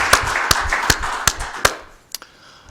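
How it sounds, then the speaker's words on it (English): At a Winnebago County Board meeting, a small group claps in a few sharp, spaced bursts that fade out over a couple of seconds. "if we could give one more final round of applause for all three of those individuals"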